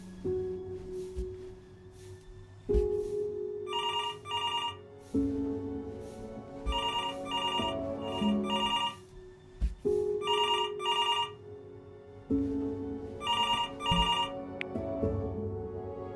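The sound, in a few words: telephone ringing in the video game Before Your Eyes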